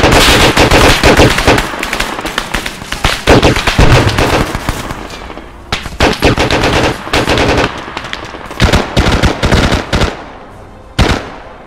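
Video game gunfire in a shooter: loud bursts of rapid automatic fire, clustered volleys with brief gaps, then scattered shorter bursts and single cracks toward the end, no talk.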